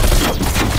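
Gunfire in the Call of Duty Cold War video game, a loud dense burst of rapid shots blending into a continuous rattle, close and brief.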